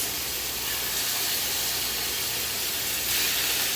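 Chicken tenderloins sizzle in a hot pan, a continuous bright hiss that holds steady and grows a little louder near the end, with no talking.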